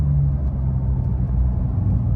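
A Porsche 992 Turbo S with an aftermarket build toward 1000 horsepower gives off a steady low engine rumble, close and continuous, with no talking.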